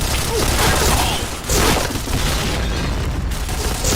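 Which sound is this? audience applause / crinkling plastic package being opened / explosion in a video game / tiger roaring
explosion in a video game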